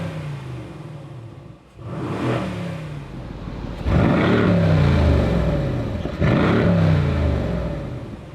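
A Mercedes-AMG GLC63 S Coupé in Sport mode with its exhaust flaps open revs through three strong accelerations, each swelling to a loud, close roar before easing off between pulls.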